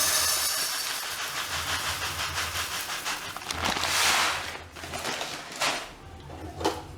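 Wheat grains roasting in a hot pan give a continuous sizzling hiss with scattered crackles and a few sharper pops near the end.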